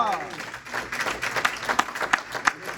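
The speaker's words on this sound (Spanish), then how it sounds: "Denle una ofrenda de palmas al Señor." A church congregation applauds with brisk, scattered hand clapping in a hall, with a voice speaking over the clapping.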